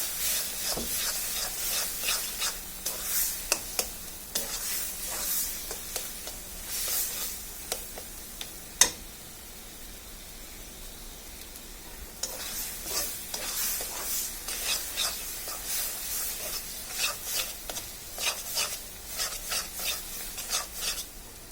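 Taro greens (kochu shak) are stirred in a pan with repeated scraping and rubbing strokes and a soft sizzle beneath. A pause comes midway, marked by one sharp knock, then the stirring starts again, close and steady.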